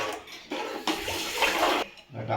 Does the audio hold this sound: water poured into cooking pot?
yes